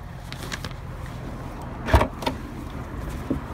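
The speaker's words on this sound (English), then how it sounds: "Opening the boot." The boot of a 2006 Jaguar XK convertible is opened, giving a sharp latch clunk followed by a couple of softer mechanical clicks, close and fairly quiet against a faint background hum.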